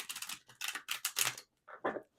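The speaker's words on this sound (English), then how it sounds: "As I'm shuffling" Tarot cards are shuffled at close range in a handful of quick riffling bursts separated by short pauses, crisp and fairly quiet.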